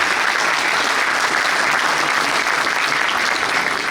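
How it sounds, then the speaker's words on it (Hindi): Loud, dense applause from a mushaira poetry gathering audience, many hands clapping in a continuous, even roar that holds steady throughout. "तो मैं चाहता हूँ एक बार तमाम लोग पुरज़ोर तालियों से आप ये साबित करें कि आप मुशायरा"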